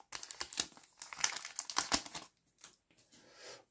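A Pokémon card booster pack's foil wrapper crinkles and tears open in quick, close, bursty rustles that fade to a few soft crackles.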